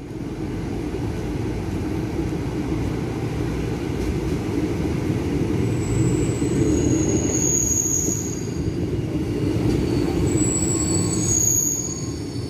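A commuter electric train runs at Cikini station in Jakarta with a loud, steady rumble of wheels on rails. High metallic squeals rise midway and again near the end as the cars pass close.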